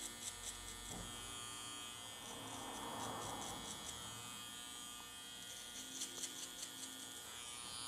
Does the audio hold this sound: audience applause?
no